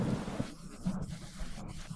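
Soft, steady rain patters with low rumbles of thunder underneath in GTA San Andreas, fairly quiet and continuous throughout.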